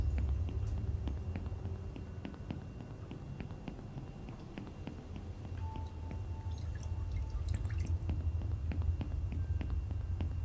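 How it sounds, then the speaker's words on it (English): Water drips in an Unreal Engine game scene: scattered, sharp little drops fall at an uneven rhythm over a soft, continuous low ambient bed, fairly quiet throughout. "I hear some water sound."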